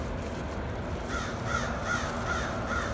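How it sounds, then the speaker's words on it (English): Several crows caw outdoors in a slow, evenly spaced series of five calls, moderately distant over steady background noise. "there's a lot of crows out over here"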